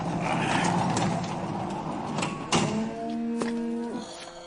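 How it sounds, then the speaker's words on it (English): Cattle low inside a barn over a constant background hum, with one drawn-out moo rising clearly near the end and a few brief clanks heard along the way. "You want to see your Welsh cows?"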